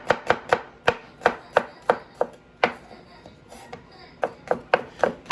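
Fresh garlic is chopped on a board with quick, close knife taps in uneven bursts, about twenty strikes with a brief pause near the middle.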